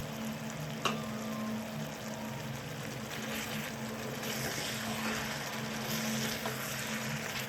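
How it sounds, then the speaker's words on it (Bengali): Mutton pieces cook in a pan with spices, a small tomato, slit green chillies and a little water for dhaba-style curry, making a fairly quiet, steady sizzle with faint stirring. "এবারে মশলা ধোয়া সামান্য একটু জল দিয়ে আমি মাংসগুলো বেশ ভালো মতো কষিয়ে নেব।"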